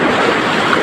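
A strong flash flood rushing past a roadside shop in Bone Pantai, Gorontalo, as a loud, steady roar of turbulent water with no pauses over the short stretch.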